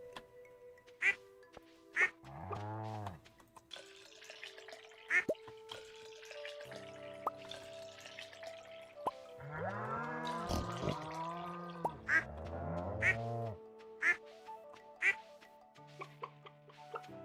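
Ducks quack in Stardew Valley, short bursts of cartoonish quacks in a few clusters amid soft dripping, chirpy effects and gentle game music.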